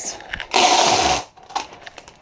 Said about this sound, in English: I'm going to do a little more tape just to be totally sure